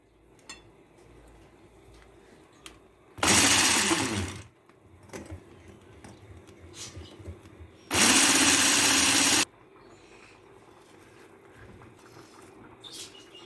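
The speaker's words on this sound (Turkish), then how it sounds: "Şimdi tekrardan çırpmaya devam ediyoruz." Two loud bursts of an electric mixer whisking lemon cake batter, each lasting about a second or more, with quieter clinks and handling noises between them.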